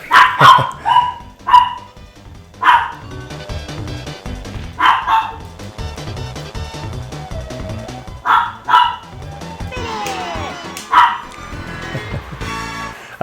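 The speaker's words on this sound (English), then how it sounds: "And the dogs are barking again." Dogs bark in the racing video game Diddy Kong Racing, a string of loud, punchy yaps repeating every second or so over a busy game soundtrack.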